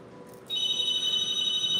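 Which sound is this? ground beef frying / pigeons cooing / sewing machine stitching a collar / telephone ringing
telephone ringing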